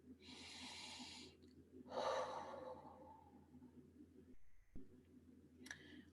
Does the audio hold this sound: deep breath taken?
yes